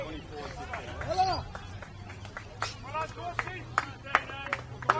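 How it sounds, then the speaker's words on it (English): Polite applause from the home supporters at an Adelaide Comets football match as number 7 Jake Dorsey is substituted off, scattered claps rising over crowd murmur and a distant commentator's voice. "Dorsey gets a wee round of applause."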